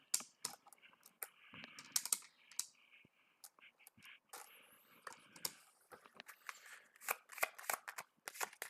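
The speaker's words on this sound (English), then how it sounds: "let me go ahead and shuffle Sam's deck" A deck of game cards being shuffled by hand, a rapid run of crisp riffling and clicking bursts, close and fairly quiet, with little else around it.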